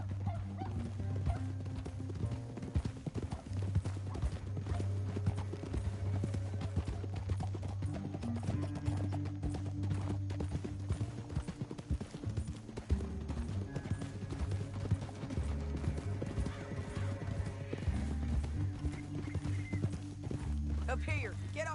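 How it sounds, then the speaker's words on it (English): Steady clip-clop of horse hooves in Red Dead Redemption 2 under continuous music and talking, a busy game soundtrack with occasional whinnies. "get off your horse."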